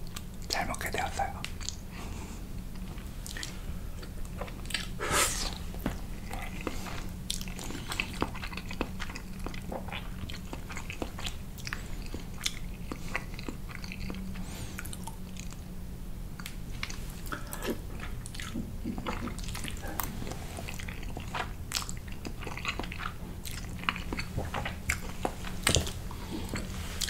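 Close-miked carbonara pasta is eaten in an ASMR session with soft, continuous bites, moist chewing and occasional crunchy smacks. Whispered talk runs underneath throughout.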